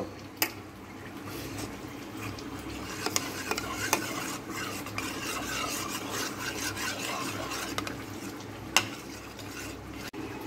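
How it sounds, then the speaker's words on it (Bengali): A spoon works half a spoonful of cornflour into a chicken nugget mixture in a bowl, giving a steady close scraping and rubbing with a few sharp clinks against the side. "কর্নফ্লাওয়ারটা এর মধ্যে দিয়ে ভালো করে নাড়িয়ে নেব।"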